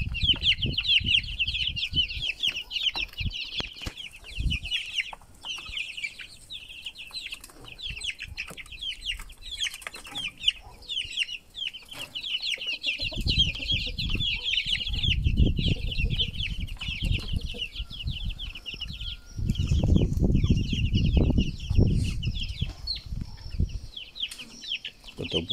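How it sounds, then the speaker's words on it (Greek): Small birds cluck and chatter while chasing each other for food, a busy stream of chirps with bursts of wing flapping and scuffling, close and continuous, without talk. "Τα πουλάκια παίζουν."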